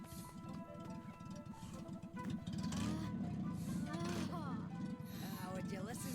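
A crank-started car engine in the video game Ni No Kuni runs with a steady, low purring rumble under ongoing game dialogue and a player talking.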